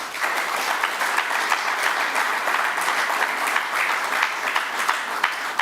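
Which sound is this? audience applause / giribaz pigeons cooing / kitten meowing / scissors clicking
audience applause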